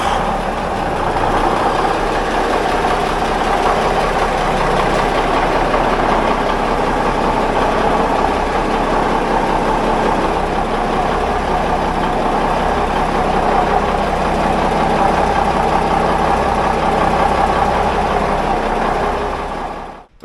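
An expedition boat's engine runs at a steady, loud idle, a dense unbroken drone holding constant for about twenty seconds before cutting off abruptly at the end.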